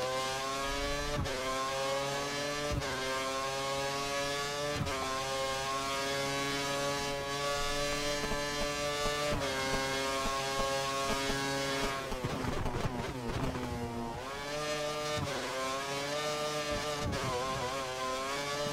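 Formula 1 car engine from the F1 2013 racing game screams at high revs, its pitch sweeping up and down through repeated gear shifts and braking, loud and steady with no talk over it.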